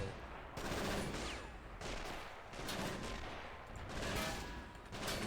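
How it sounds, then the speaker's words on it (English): In the Men of War: Assault Squad 2 Kursk battle, a StuG assault gun and surrounding weapons fire at an AT gun, with repeated distant-sounding gunshot and cannon bursts rolling over each other in a dense, continuous battle din. "Let's get the Stug to keep firing on that AT gun though"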